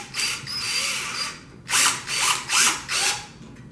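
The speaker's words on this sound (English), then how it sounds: "we're going to retension the belt. You can see it tensioning." A belt tensioner on a ProCut CR series cutter is ratcheted to retension its belt, giving four short, close mechanical clicking bursts in quick succession after a quieter stretch of low mechanical noise.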